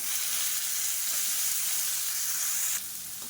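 Chopped tomatoes and green chilies sautéing in a pan for a soya chunk gravy give a steady, close hiss of sizzling oil that holds for a few seconds, then drops slightly softer near the end.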